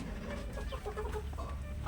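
Free-range chickens clucking in a lemon orchard, a scatter of soft clucks and short calls over a low constant background, fairly faint and close.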